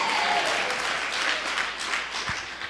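Congregation applause at a church service, a dense steady wash of clapping that holds at full loudness throughout, fairly close and unbroken.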